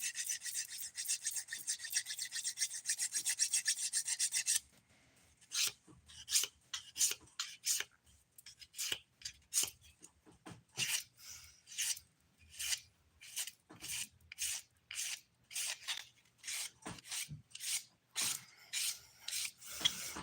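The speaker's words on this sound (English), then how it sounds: "Using a 180 grit file here to shape the free edge of my nails" A 180 grit nail file shapes the free edge of fingernails, first a steady close scraping, then a long run of short, rhythmic rasping strokes with silence between them.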